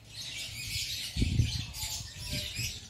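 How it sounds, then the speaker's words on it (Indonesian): A lovebird, a fighter-class bird kept for contests, chirps in bursts of bright, high calls over a low rumble of background noise, with a louder cluster around the middle. "Jadi lovebird Douglas ini"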